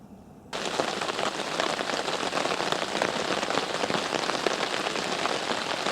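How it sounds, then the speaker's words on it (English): Steady, even rain drums on a lakeside day shelter during a fishing session, a dense constant hiss that swells in abruptly after a quieter opening and holds without letup, no voices. "the rain's pretty constant now"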